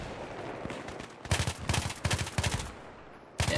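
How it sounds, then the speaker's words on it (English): Automatic bursts from the KH2002 assault rifle in the Battlefield 3 video game, several rapid rattling volleys in quick succession on a small map, fairly loud with short pauses and a final burst at the end. "not quite putting my shots on target here"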